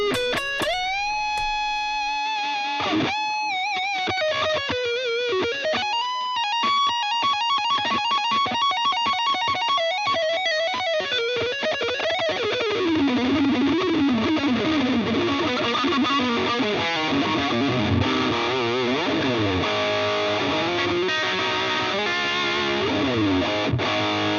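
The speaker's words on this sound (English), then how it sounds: "So that's a really cool shred guitar tone." A heavily distorted electric guitar through an ENGL Powerball pedal plays sustained notes, then fast shredding runs, with delay repeats and reverb trailing each phrase, loud and continuous.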